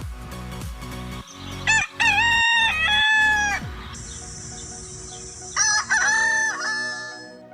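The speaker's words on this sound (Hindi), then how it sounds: "तो इन मुर्गों की ये बेसुरी आवाज़ 140 डेसिबल्स या उससे भी ज़्यादा हो सकती है।" A rooster crows loudly and close by, twice, with long rising and falling calls over a steady background murmur.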